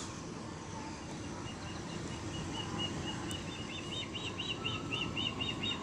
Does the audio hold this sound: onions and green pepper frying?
no